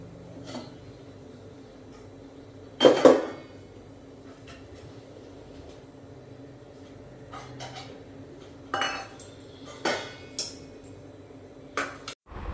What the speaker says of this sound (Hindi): तो बर्तन साफ़ कर लेते हैं पहले फटाफट से